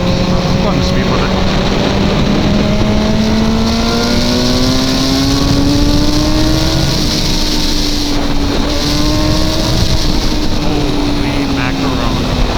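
BMW S1000R sport motorcycle accelerating hard on the road, a loud continuous engine note rising steadily in pitch with wind noise throughout, heard from the rider's position.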